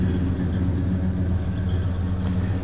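A 1968 Ford LTD Brougham's 390 V8 in need of a carburetor rebuild and tune-up runs at a steady idle, a close, loud, continuous low rumble with a slightly uneven pulse and no voices.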